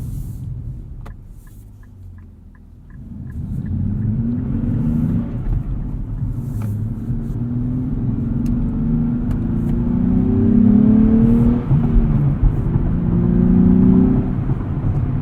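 A 2023 Nissan Z's engine revs and climbs steadily in pitch, a rough, coarse, droning growl heard from inside the cabin while driving, building louder over several seconds.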